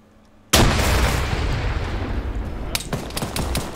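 A frag grenade explodes in Arma 3 with a sudden loud blast, followed by a long rumbling decay and then a few sharp gunshot cracks.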